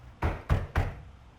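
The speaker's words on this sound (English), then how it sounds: "that doesn't sound like a nice knock at all" Three firm knocks on a door in a TV show, evenly spaced and close, followed by quiet.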